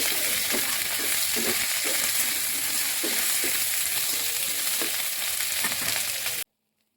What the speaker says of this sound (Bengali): এখানে আগে থেকে আমি একটা কড়াই তেল দিয়ে আসছি। মাংসগুলো ভালোভাবে ভেজে নিতেছি একটু করে।